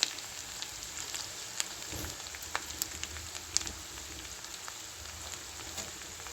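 Amaranth leaves and onion fry in a pan over a low gas flame, giving a steady, soft sizzle with scattered small crackles throughout.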